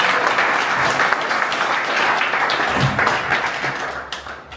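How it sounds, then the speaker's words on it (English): A conference audience applauding, a dense, loud wash of many hands clapping at once that holds steady before fading out toward the end. "so give applause for Contoflux.io"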